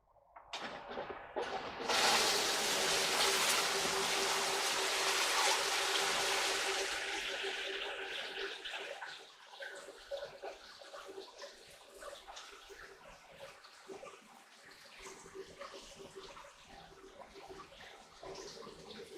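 A homemade recirculating gold high banker runs with a loud rush of splashing water that starts suddenly, holds steady, then eases into a lower, uneven trickle and slosh.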